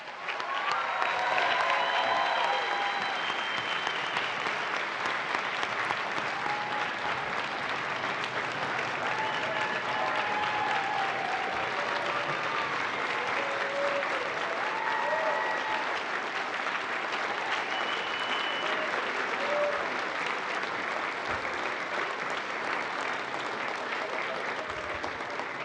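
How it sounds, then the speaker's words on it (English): Audience applauding astronaut candidates at their graduation ceremony, steady sustained clapping from a large crowd filling the whole stretch, loud and dense, with occasional faint cheers. "Let's give them a big round of applause."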